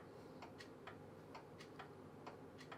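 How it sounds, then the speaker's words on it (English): Clocks tick very faintly in a quiet room, a string of soft, evenly spaced clicks about every quarter second over a low hiss. "I've got some clocks, so they might bong"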